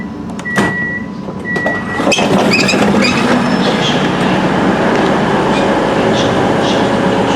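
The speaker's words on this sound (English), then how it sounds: "we're now pulling into Stockport Station" A train pulling into Stockport station, heard as a loud, steady rumble of the train cars with a few short clicks and squeaks early on, continuing for the whole clip with no talking.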